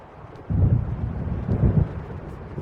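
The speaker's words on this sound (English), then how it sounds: "It seems there's a storm coming." Thunder rolls in a stormy scene in the video game Alan Wake Remastered, two deep, heavy rumbles swelling over a steady low wash of rain and wind, with no voices.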